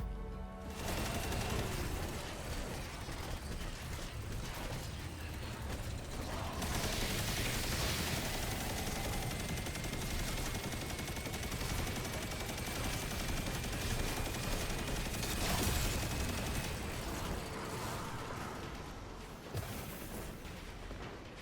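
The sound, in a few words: Destiny 2 heavy machine gun firing, video game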